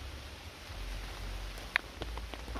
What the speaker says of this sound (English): Starting to rain there a little bit too heavy.